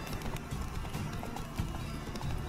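A horse gallops with steady, rapid clip-clop hoofbeats and an occasional whinny in The Witcher 3: Wild Hunt, a dense, continuous rhythm over a full-bodied outdoor game soundscape.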